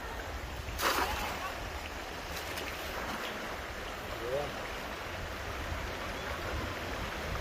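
A cast net thrown into a cold river lands with one sharp splash early on, followed by the continuous rush and gurgle of flowing stream water.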